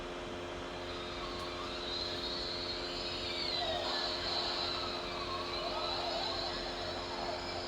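An electronic toy sound effect from a Bandai Ohranger Power Brace, a continuous buzzing, whirring tone with swooping pitch sweeps, steady and moderately loud throughout.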